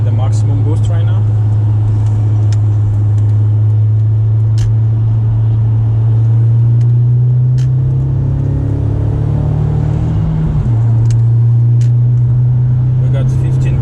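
A stage 3 tuned Audi A4 B6 1.8T Quattro pulls hard in third gear, a loud, steady droning engine note that climbs slowly in pitch under boost, then drops sharply on the shift, with a voice talking over it.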